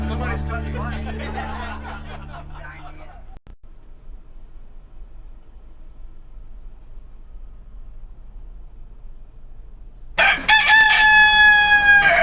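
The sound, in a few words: Key West rooster crowing, recording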